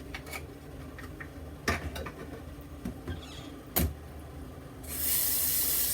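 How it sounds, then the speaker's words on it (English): A cool-water tap runs in a sink to rinse alum off after shaving with a Rockwell T2 razor, with scattered clicks and taps, then the water flow swells into a louder steady hiss. "Let's rinse the alum off with cool water."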